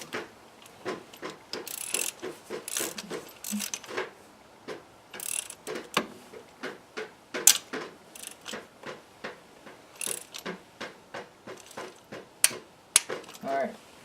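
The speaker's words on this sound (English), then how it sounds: "with this torque wrench, we want to have it set to 156 inch-pounds, or about 13 foot-pounds. And then we'll use that to tighten the spark plugs down." A torque wrench set to 156 inch-pounds tightens the spark plugs on a 1995 Honda Civic, giving a long run of dense, irregular ratcheting clicks at close range, some louder than others, with no talk over them.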